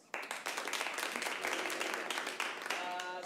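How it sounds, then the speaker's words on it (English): Audience applause at an improv comedy show, a dense continuous patter of many hands clapping close and loud for a few seconds, with scattered voices mixed in. "Clap if you knew what improv was."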